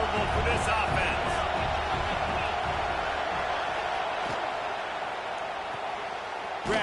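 A football stadium crowd roars at a steady, loud level as the home fans try to rattle the opposing offense, a broad continuous wall of cheering and yelling with occasional sharp thuds and whoops.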